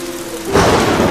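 Rain hissing steadily with a low thunder rumble swelling partway through, a broad, loud wash of storm noise with no voices.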